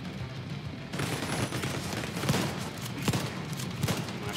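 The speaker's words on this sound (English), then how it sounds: "Shotgun." Shotgun blasts and other gunfire in a firefight in Tom Clancy's The Division, with dense, continuous battle noise and a few sharper reports standing out.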